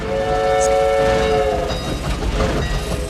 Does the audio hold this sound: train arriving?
yes